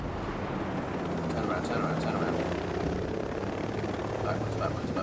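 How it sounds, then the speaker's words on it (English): Helicopter approaching from behind in the video game Ghost Recon Breakpoint, a steady rotor thrum and engine drone that holds throughout, with players talking over it. "We've got a helicopter coming behind us"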